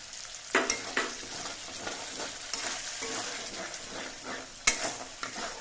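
Pointed gourd sautéing with whisked sour yogurt and green chillies over a lowered flame, giving a soft continuous sizzle with spatula scrapes and a few sharp metallic knocks against the pan.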